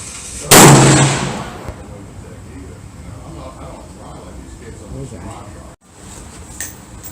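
A 6.5 Creedmoor LFA Armory AR-10 rifle fires at a 100-yard outdoor range, one loud sharp report near the start that decays into a long ringing tail, followed by quieter ambient noise and a faint later click.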